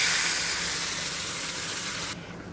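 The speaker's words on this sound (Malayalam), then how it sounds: "നമ്മുടെ മുളക് ഇങ്ങനെ തിളച്ച് വരുന്നുണ്ട്" A chili powder mixture with tamarind water boils hard for a fish curry, giving a loud, steady hiss of steam and bubbling that cuts off abruptly near the end, with no talking.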